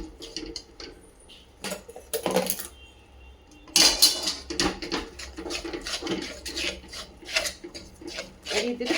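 A spoon scrapes and rasps around a pan while stirring a jaggery mixture for puffed rice laddoo over a low to medium gas flame, with irregular loud scraping strokes and knocks.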